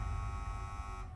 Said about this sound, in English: he'd arranged to meet Michaela, he finds it and presses the buzzer